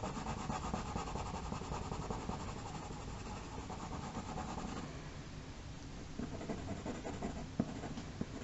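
A cream coloured pencil scratches steadily across paper while a Super Mario Goomba is drawn, a close, soft, continuous scribbling with small shifts in stroke, and no voice over it.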